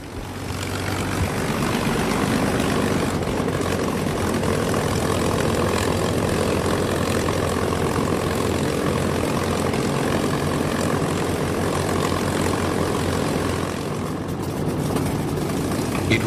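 A North American P-51 Mustang fighter's piston engine drones steadily and loudly throughout, a dense, continuous roar with no talking.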